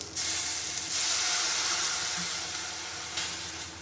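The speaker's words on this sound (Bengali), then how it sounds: "একটু জল দিয়ে আমি মিশিয়ে দিচ্ছি।" Biryani masala cooking in a pan hisses and sizzles steadily after water is added, a loud, continuous close-up steam hiss with no talking.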